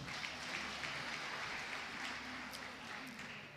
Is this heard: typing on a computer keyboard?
no